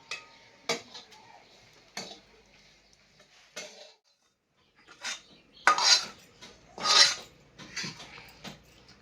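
Dry coconut roasting in a pan for misal, stirred with a utensil in irregular bursts of scraping and clinking, some louder near the end, with quiet gaps between.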